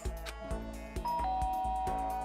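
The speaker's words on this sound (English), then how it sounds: "Oh, ding dong." A doorbell chimes in the Danganronpa: Trigger Happy Havoc video game, with several bright ringing tones that repeat in an even rhythm over a low backing drone.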